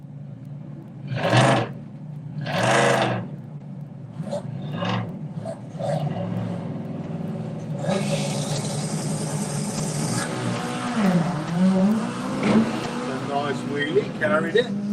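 A Volkswagen drag racing car makes an 8-second pass with several wheelies, its loud engine roaring and revving across the run beneath steady commentary from an announcer.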